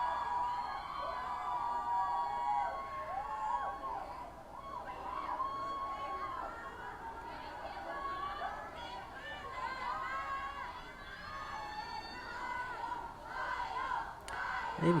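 A fan-side crowd at the Y Universe Awards keeps up a dense, continuous roar of cheering, excited shouts and chatter, many voices overlapping throughout at a steady level.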